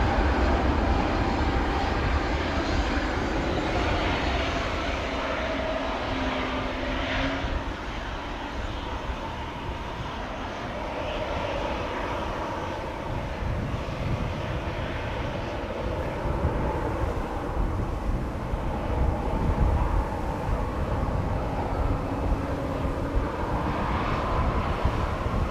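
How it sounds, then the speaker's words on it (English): A KLM airliner, a 25-year-old jet on flight 1775 to Berlin, roars at Amsterdam Schiphol Airport on a windy day, with loud, sustained engine rumble and wind noise filling the whole stretch. "KLM flight 1775 to Berlin is this. 25-year-old airplane, first flight June 1999."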